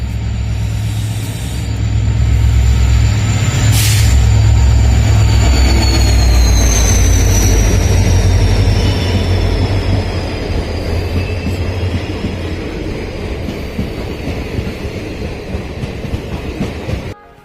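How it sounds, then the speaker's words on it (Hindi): A passenger train pulls into a Lucknow station on the Aishbagh side on a cold winter day, its loud, close rumble and rhythmic wheel clatter steady throughout, with high wheel squeal and a short horn-like tone early on. "तो थोड़ी देर में हम आपको अपनी ट्रेन का आगमन दिखाएंगे"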